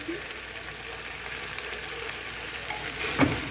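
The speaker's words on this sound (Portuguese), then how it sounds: "Aí aqui eu dou uma mexidinha e vou deixar já refogar." Bell pepper sautéing in a pan while being stirred, a soft steady sizzle with faint scraping of the utensil and a brief clink near the end.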